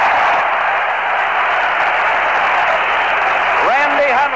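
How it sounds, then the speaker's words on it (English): A baseball stadium crowd at a Mets vs Cubs game boos in a loud, sustained, unbroken roar, with a rising whistle-like tone near the end. "The booing you hear is for Hundley."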